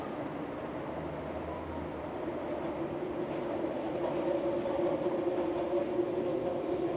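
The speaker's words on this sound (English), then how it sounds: "And here comes the train." Detroit People Mover train pulling into an elevated station, a steady rumble of wheels on rail building gradually louder over several seconds, with faint clatter and no talk.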